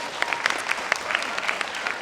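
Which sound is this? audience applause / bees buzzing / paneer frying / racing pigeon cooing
audience applause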